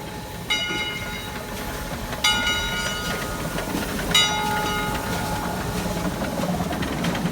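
A train rumbles along the rails with a continuous clatter, while bright tonal squeals ring out three times at regular intervals.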